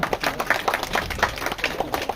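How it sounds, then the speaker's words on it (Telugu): Audience applause at a felicitation ceremony for transferred village revenue officers and surveyors in Buchireddypalem, Nellore: a small crowd claps steadily at moderate volume with uneven rhythm for the whole stretch. "క్లాప్స్ బాగా కొట్టాలా"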